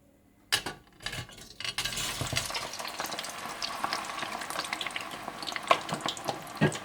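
Potato pieces fry in hot oil with a busy, crackling sizzle that starts abruptly after a short quiet moment, broken by a few stirring knocks and faint utensil clinks, close and continuous with no talking.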